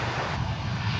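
Airliner on a flight from London, heard at DFW Airport as a steady, loud engine roar with a broad low rumble and no speech.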